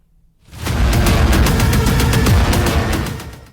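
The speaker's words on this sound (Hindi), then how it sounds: "एक से बढ़कर एक जो ये धमाके यहाँ सुनने को मिल रहे हैं" A sudden burst of rapid, rattling gunfire mixed with heavy blasts from an Indian Air Force exercise at Pokhran field range erupts loudly and continues for a few seconds before fading.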